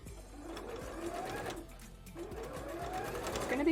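A domestic sewing machine runs close by, zigzag-stitching folded fabric on a bra, in two steady whirring bursts with a brief pause between them, while a voice talks quietly underneath.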